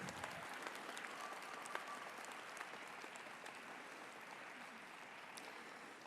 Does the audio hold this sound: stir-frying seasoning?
no